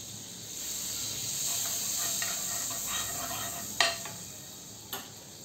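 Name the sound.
bread and butter frying in a pan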